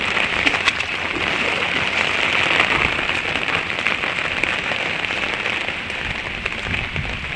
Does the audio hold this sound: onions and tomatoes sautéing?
no